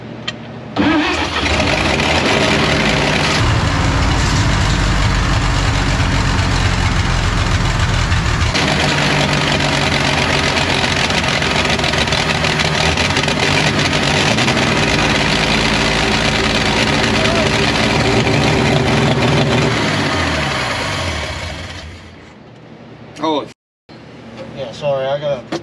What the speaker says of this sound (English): Dude, that engine sounds super healthy.